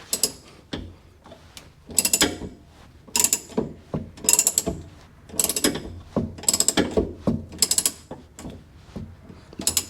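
A ratchet is cranked to adjust a lower control arm on a Foxbody Mustang, making repeated close, sharp clicking bursts in a steady rhythm of strokes with short pauses between them.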